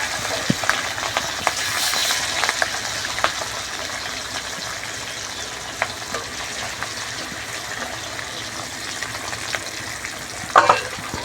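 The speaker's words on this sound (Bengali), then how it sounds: "মাছগুলো ভেজে নিচ্ছি" Hilsa fish fries in hot oil with a loud, dense sizzle and crackle that stays steady, broken by scattered sharp spits and a brief clatter near the end, with no talking.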